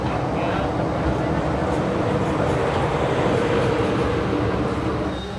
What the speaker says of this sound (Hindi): सामने निकल रही है धनबाद सासाराम इंटरसिटी